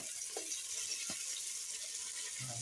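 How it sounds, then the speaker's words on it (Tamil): Water in a pot for vegetable rice, with softened onions and vegetables already added, boils in a steady close bubbling hiss, with a few faint soft knocks and no talk. "நல்லா கொதி வந்துருச்சு."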